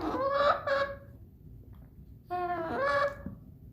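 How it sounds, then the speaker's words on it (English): A little silkie rooster among a backyard chicken flock, two bursts of nasal, honking calls close by, separated by a quiet gap of about a second. "this is a little silky rooster here named Stormy."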